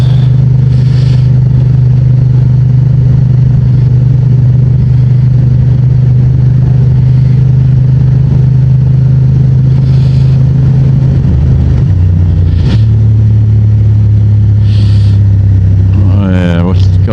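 Honda Transalp 750 motorcycle engine droning steadily while riding a back road in standard mode, a continuous loud low hum with a brief dip and gear change near the end, wind noise throughout.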